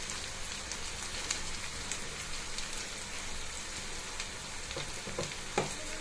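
Sardine curry masala with coriander powder and chili curry powder fries steadily in a pan, a dense continuous sizzle with faint stirring clicks, near and alone.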